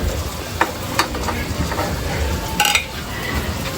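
Onions frying and being stirred in a pan, a steady sizzle with scraping spatula strokes and a few sharp clinks of utensil against metal, close and fairly loud with no talk.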